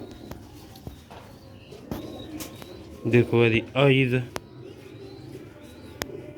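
Low pigeon cooing from the old Nooruddin-line breed murmurs faintly beneath someone speaking close by, with occasional soft clicks and movement.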